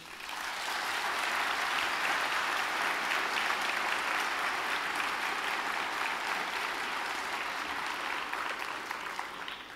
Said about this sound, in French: j'aimerais pour commencer que vous applaudissiez vous-même